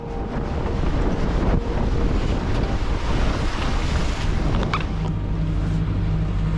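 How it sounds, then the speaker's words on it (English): Strong wind roars steadily and loudly across a sailboat at sea on a passage from Norway to Shetland, with waves washing against the hull throughout. "It's more wind than expected."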